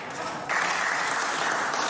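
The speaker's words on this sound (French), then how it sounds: "Elle est pas mal, celle-là, elle déclenche les applaudissements." Applause fills the French Senate chamber after a punchline, a broad wash of many hands clapping that swells after half a second and holds steady, without speech.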